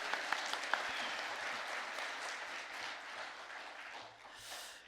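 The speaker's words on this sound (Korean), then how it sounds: "우리 청년들 잘하고 있다고 우리 격려의 박수 한번 할까요?" Applause of encouragement from a church congregation at a Sunday afternoon worship service, a steady wash of clapping throughout with a few sharper claps near the start and a brief swell at the end.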